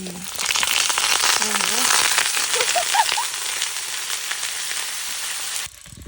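Steady crackling sizzle of french fries frying in hot oil outdoors on a fishing trip, loud and close, with bursts of bubbling, then cutting off abruptly near the end.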